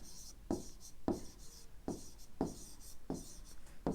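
Pen or pencil writing by hand on paper during a fifth-grade maths lesson, five short rhythmic bursts of scratching strokes at close range, steady and moderately loud with no talk.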